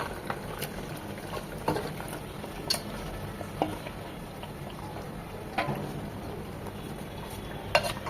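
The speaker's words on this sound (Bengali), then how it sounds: "মশলার সাথে টক দইয়ের সাথে ভালোভাবে বিফটাকে কষিয়ে নেব।" Boiled beef is sautéed in a pan with spices and sour yogurt for beef korma, giving a low steady sizzle. Occasional sharp utensil taps and scrapes stand out against it, and no one speaks.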